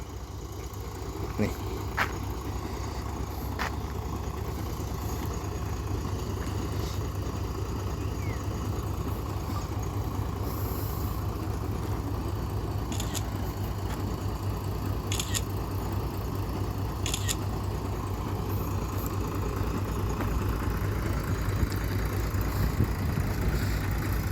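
A steady, low tractor engine drones on throughout, idling evenly while spreading laterite gravel in the rainy season, with someone talking over it and a few faint clicks and knocks.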